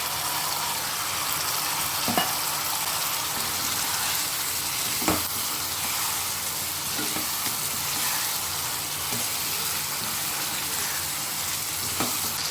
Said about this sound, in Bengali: আমি এখন সবজিগুলো এর মধ্যে ভাজা সবজিগুলো দিয়ে দিচ্ছি, আলু আর পটল।